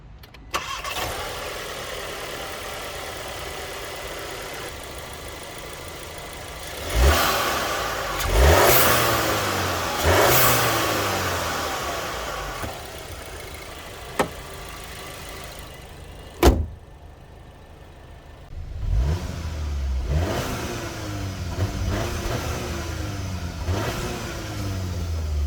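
Seat Ateca FR 2.0 TSI 190 hp with 4Drive all-wheel drive, engine starting and then idling, with several sharp revs rising and falling and short blips between calmer stretches, close and loud with no talking.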